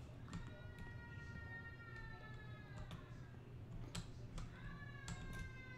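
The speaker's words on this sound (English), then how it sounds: "Sound like a cat outside" A cat meows repeatedly outdoors in a horror game scene, several drawn-out rising cries spread across the stretch over a steady low background hum.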